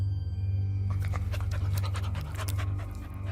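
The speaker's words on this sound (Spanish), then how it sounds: "fue el mismo sonido de perro." A dog pants rapidly and rhythmically, close up, with quick breathy puffs over a low steady hum.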